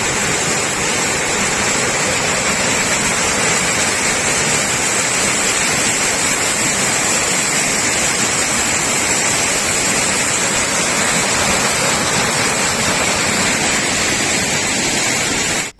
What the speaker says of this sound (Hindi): और फिर अब ये शानदार झरना, तो कल बहता हुआ ये शानदार झरना, उसका आप आनंद लें